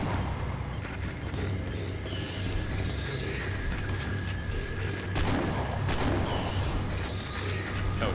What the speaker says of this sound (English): It would probably help if I wasn't shooting him like in the legs.